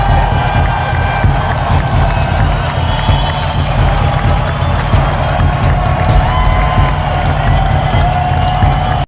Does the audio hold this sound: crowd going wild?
yes